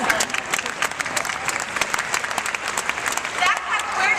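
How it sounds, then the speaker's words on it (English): A lecture audience breaks into full, dense applause that fills the room at a steady level throughout, with voices faintly mixed into the clapping. "Can we applaud that?"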